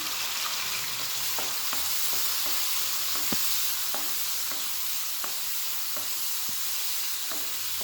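Onions being sautéed in a pan with cumin and coriander powder, giving a steady loud sizzle with regular clicks of a spatula stirring and scraping, close and without talk.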